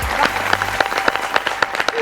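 Audience applause following a dance performance at a family function, dense steady clapping with sharper individual claps standing out, filling the whole stretch at moderate loudness.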